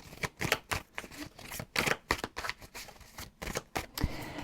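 Tarot cards are shuffled and drawn in quick, crisp bursts of riffling and slapping, loud and close, with short pauses between the flurries and no talk over them.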